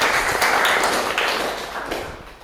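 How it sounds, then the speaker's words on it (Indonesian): A classroom group claps together, a dense, fairly close burst of applause that holds steady and then fades over a couple of seconds. "Kita tepuk tangan dulu ya sebelum ada tanggapan"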